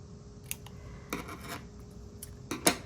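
Scissors cutting into a paper card shaped like denim shorts, several short faint close snips and rustles spaced unevenly, no talk.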